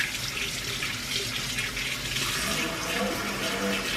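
Kiwis and strawberries are washed under a running kitchen tap, with a steady close rush of water hitting the fruit and sink throughout and no talking.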